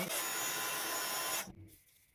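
A heat tool blows over foil on a greeting card, a steady loud airy rush that cuts off abruptly after about a second and a half, leaving quiet room tone.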